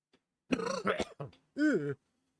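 A person nearby coughs and clears their throat in a few rough, separate bursts, with a harsh rasping clear at the start and a longer voiced throat clearing after a short pause, all against silence.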